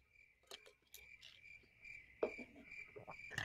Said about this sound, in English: Oh, that's crickets chirping.